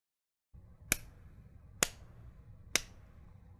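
A cartoon character claps three times, sharp isolated claps about a second apart, each standing alone against a faint background hum with no talking.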